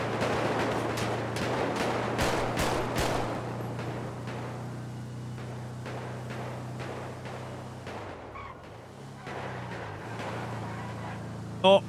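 A rapid string of gunshots during a delivery war in the OCRP roleplay game, loud bursts at first, then sparser scattered shots over a steady vehicle engine drone, with brief clanks near the end.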